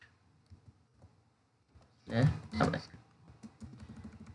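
Keys clicking on a computer keyboard while typing a JavaScript script, soft scattered taps followed by two louder bursts of rapid presses close to the microphone, with quieter typing trailing off.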